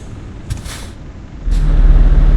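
A truck's engine starts in Euro Truck Simulator 2 on a Greek map: a short airy hiss, then a deep rumble cuts in and settles into a steady, close idle with a low droning tone.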